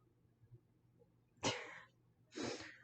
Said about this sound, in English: the dog sneezed